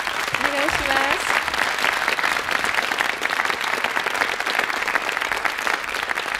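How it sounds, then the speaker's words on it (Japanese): An audience at a 1979 jazz session applauds a singer, a sustained, dense wash of clapping lasting several seconds, with a short voice heard near the start. "どうぞ大きな拍手を お願いします。"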